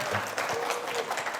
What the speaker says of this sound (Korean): 박수 한 번만 주세요.